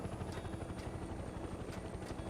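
A helicopter in Mercenaries 2 gives a dense, steady rotor roar with low thumping chop throughout. It sounds faint and constant, with no speech.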